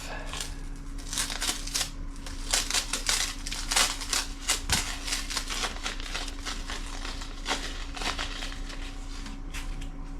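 Tape peeled off a woodturned bowl, heard as a quiet run of rapid crackling, ticking tears and small rips, with an irregular rhythm and no voices.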